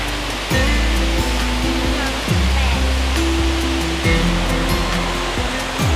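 Sarika waterfall in Nakhon Nayok in the rainy season pours from a great height in a loud, steady, broadband roar that fills the whole stretch, close and continuous, with intermittent low rumbling thuds beneath.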